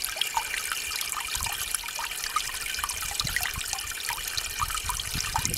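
Spring water flows and trickles steadily on a farm, a continuous bright burbling with small splashes throughout, close by and unbroken, with no voices.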